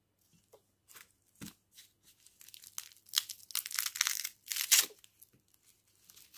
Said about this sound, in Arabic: يعني غادي نقيو البصله ديالنا